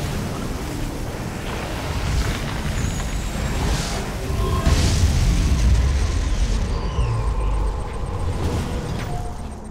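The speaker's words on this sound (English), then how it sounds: "Ion cannon activated." A loud, rumbling ion cannon explosion from the real-time strategy game Command and Conquer Tiberium Wars rolls on as a sustained low blast under faint in-game effects and announcer calls, swelling midway before easing slightly.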